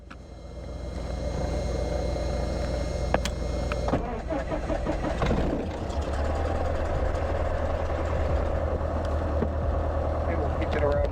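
A Cessna 152 aircraft engine turns over and catches after a priming and quarter-inch throttle setting. It settles into a steady, loud idle that fills the clip, with the cockpit close by.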